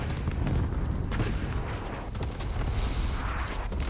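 A bomb explosion in Call of Duty: Modern Warfare, heard as a dense, continuous roaring rumble of blasts and debris, loud and sustained throughout, with no talk.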